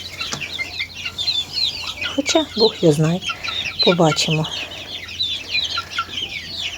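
Backyard chickens, a rooster among them, cluck in short bursts close by, mixed with light bird chirps in the background, while someone talks over them.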